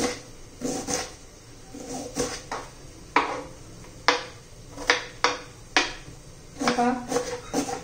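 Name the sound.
knife finely chopping onion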